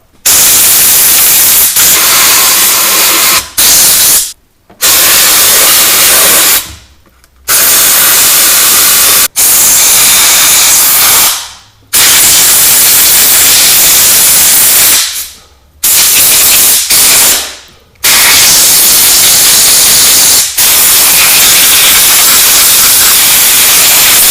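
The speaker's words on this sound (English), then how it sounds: "we're going to take an air hose and blow out all the areas where electrical connections are" Compressed air hose blasting out electrical connections while a Sub-Zero refrigerator is cleaned and prepped, a loud, steady hissing rush in long bursts of several seconds, broken by brief silent gaps.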